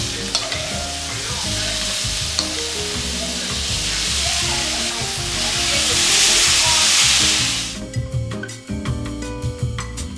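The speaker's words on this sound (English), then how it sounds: "we're also gonna toss in that green pepper that we cut and let that saute" Constant sizzling and frying of chicken and green pepper in a pan, with scraping and stirring sounds; the sizzle swells louder before dropping to intermittent clinks and scrapes.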